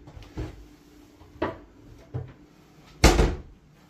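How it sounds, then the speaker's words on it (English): A frying pan being handled in a kitchen while getting oil ready for frying croaker: four separate hard knocks and clunks, the last one the loudest, with quiet room sound between them. "I'll put some oil in the frying pan now."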